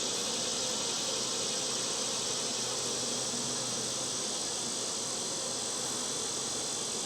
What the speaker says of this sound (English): These bees over here is the one that's trying to get me.